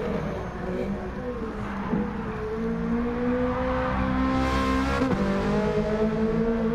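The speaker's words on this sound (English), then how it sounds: "Car revs too much." A race car engine revving high in Gran Turismo, a steady sustained whine with shifting pitch and a brief surge of tire noise, playing alone at moderate volume.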